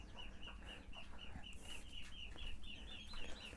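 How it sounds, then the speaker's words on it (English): Chickens cluck softly and steadily inside a nesting shed on a hot day, a quiet run of short repeated clucks over low background noise. "the chickens now are nesting in here instead of in the old cow shed"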